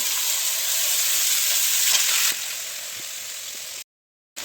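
Spices hiss and sizzle loudly in a pan of country-chicken curry cooked over a wood fire, a steady close frying sound that softens partway through before briefly cutting out.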